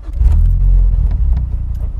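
A Mazdaspeed 3 engine fires up on its first start after a high-pressure fuel pump install, a close, low, steady idle rumble with slight fluctuations, no talking.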